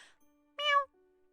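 A single short, high-pitched kitten meow in the video game Pesterquest, clear and close, with faint tones and quiet in the background.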